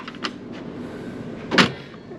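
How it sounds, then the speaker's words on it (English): A drawer on a heavy Snap-on tool chest is unlatched by its lever, giving a faint click early on and then a sharper metallic clack, close and otherwise quiet. "it's got a really nice like lever system to unlatch the drawer"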